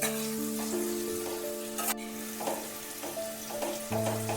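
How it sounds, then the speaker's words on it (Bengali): Potatoes fry in oil in a pan at home for a Bengali prawn and banana-flower dish, giving a steady, even sizzle that runs the whole time, close and moderately loud, with a few faint clinks. "আলুটা ভাজা ভাজা হয়ে গেছে"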